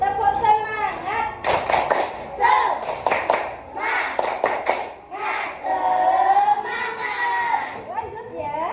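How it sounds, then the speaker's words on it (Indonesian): Schoolchildren in an Indonesian elementary classroom perform the tepuk semangat clapping chant, with quick bursts of rhythmic hand claps mixed with young voices chanting and talking close by. "Tepuk semangat dulu ah."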